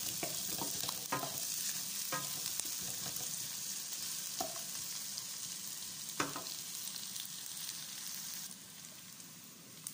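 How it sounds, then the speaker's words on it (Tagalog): Onion and garlic sautéing in a little olive oil for a chop suey, a steady close sizzle broken by several scraping stirs and utensil knocks against the pan. "Bisa natin ang sibuyas,"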